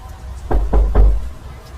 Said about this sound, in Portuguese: De repente, eu ouvi novas batidas na porta.